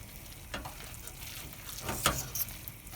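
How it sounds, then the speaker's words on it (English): Parmesan is stirred into spaghetti in a frying pan, giving a soft continuous sizzle with gentle scraping stir strokes and a few sharper knocks, close and low in level. "Stir that into the spaghetti"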